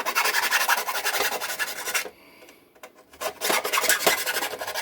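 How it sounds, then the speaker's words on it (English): Small hand file deburring a drilled hole in metal: rapid close rasping strokes that pause for about a second partway through, then resume briskly, with no voices. "I'm going to try to get rid of some of this burr with a little file I have."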